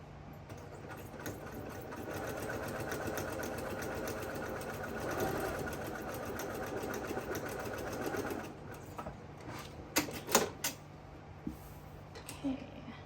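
Close by, a sewing machine runs a seam on a fusible fleece fabric basket with a steady whirring hum for about eight seconds, then stops, followed by a few soft handling clicks.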